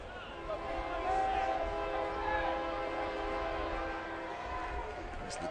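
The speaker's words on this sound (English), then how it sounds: "As the train chimes in the background" During an LSU versus Texas A&M college baseball game, a train horn sounds in the distance. It rings as a sustained chord of tones over several seconds behind crowd and ballpark noise.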